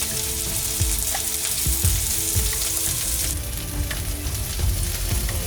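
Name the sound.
onion, chili and garlic frying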